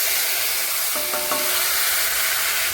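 Garlic sizzles loudly in hot oil alongside ginger-cumin paste, a dense, close frying hiss that runs unbroken, with a brief cluster of stirring clinks near the middle.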